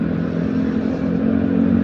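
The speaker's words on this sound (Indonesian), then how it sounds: "semua pengendara motor tuh udah pada ngegas-gas tuh, udah pada rame gas motornya kan" Motorcycles rev their engines in morning city traffic, a dense steady drone of several motors with rising throttle blips, recorded close from a rider's bike with wind and road noise throughout.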